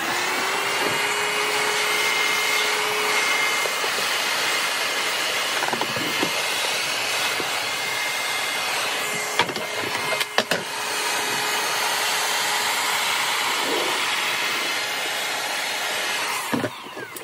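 A heat gun blows with a steady whooshing roar, close and continuous, while heating around the seal of a Toyota Celica headlight, with a few clicks and knocks from handling.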